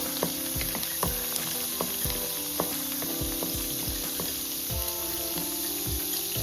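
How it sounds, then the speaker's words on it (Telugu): Crushed garlic, curry leaves and chopped small tomato frying in a pan for village-style sambar, a loud steady sizzle with repeated clinks and scrapes of stirring throughout. "దంచిన వెల్లుల్లి కొద్దిగా, కరివేపాకు, చిన్న టమాటా ఒకటి తరిగి వేసుకోవాలి. కొద్దిగా వేగనివ్వాలి."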